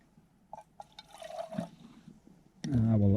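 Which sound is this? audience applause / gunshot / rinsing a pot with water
rinsing a pot with water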